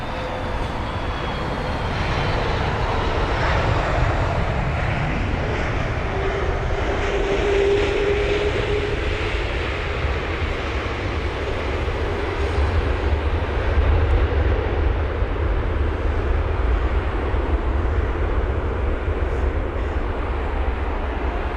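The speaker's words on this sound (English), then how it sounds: "That was flight number AH2054 for the Air Algeria Airbus A330-200 aircraft" An Air Algeria Airbus A330-200 arriving at London Heathrow, a broad steady jet engine roar with low rumble that holds at a fairly loud level throughout, heard from a distance with no talking.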